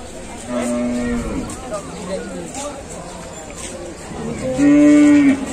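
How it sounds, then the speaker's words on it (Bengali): A red cow bought for Qurbani sacrifice is led past at a cattle market, lowing loudly twice, once early and a louder, longer moo near the end, while people talk around it. "আপনারা দেখতে পাচ্ছেন যে আর একটি গরু যাচ্ছে।"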